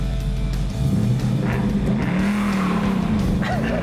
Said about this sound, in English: He's going to take us on a hot lap around Sonoma Raceway in the Roush Mustang